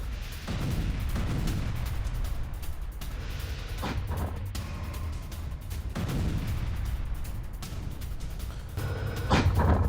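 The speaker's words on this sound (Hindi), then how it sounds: "रूसी T-80 टैंक की जबरदस्त शेलिंग" A Russian T-80 tank shells Ukrainian positions, heard as repeated heavy booms and crackling blasts over a constant low rumble and wind-like roar for about ten seconds.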